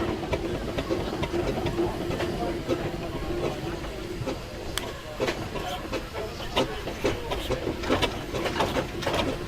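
An 1890 Royce steam roller engine runs at an outdoor steam rally, giving a steady mechanical chugging and clatter that fills the clip, with faint crowd murmur behind it.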